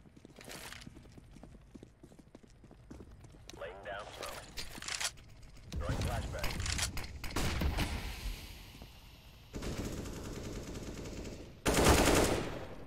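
CS:GO Wingman gunfire comes in separate bursts of rapid shots, some sparse and some dense, with the loudest volleys toward the end. Quiet voices can be heard between the bursts.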